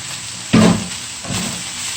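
Irish potatoes drop into a hot, dry pan with a sudden loud sizzle and hiss that fades. A second, softer burst of sizzling and stirring follows about a second later.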